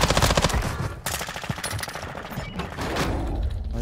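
Rapid automatic gunfire in a night sniper video game rattles in loud, dense bursts, with a brief pause before the volleys resume and continue steadily to the end.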